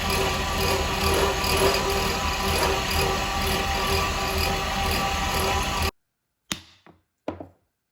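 A power drill bores into the guard of a hunting knife handle, giving a steady loud whir for about six seconds, then stops, followed by a few sharp knocks and clicks.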